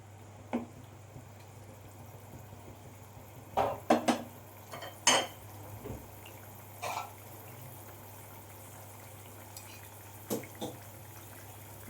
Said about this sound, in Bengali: এবার পনিরটা দিয়ে আবারও আমি ভালো করে গ্রেভিটার সাথে মিশিয়ে নেব।